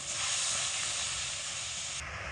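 Water poured onto spice paste frying in a pan bursts into a loud, steady sizzling hiss that holds for about two seconds, then drops sharply quieter.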